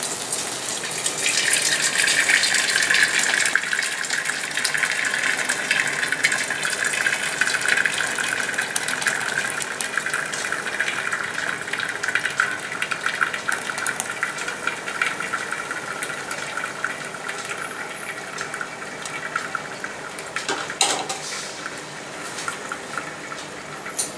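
Soy milk pours steadily through a muslin cloth in a continuous splashing gush, close by, lasting the whole stretch with a brief dip near the end.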